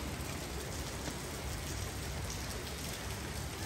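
Light drizzling rain in cold, misty Sapa gives a steady soft hiss of fine drops, continuous and even throughout, with no voices.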